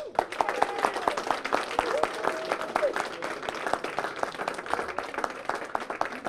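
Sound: audience applause for contestants

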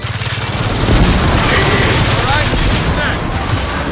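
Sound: gunfire in Gears of War 4 video game

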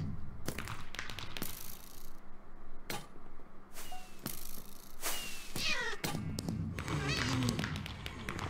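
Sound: cat meowing in a video game

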